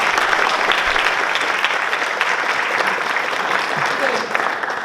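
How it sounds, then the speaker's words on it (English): A lecture-hall audience gives a speaker another round of applause, dense steady clapping filling the room for the whole stretch without letup. "Let's give him another round of applause."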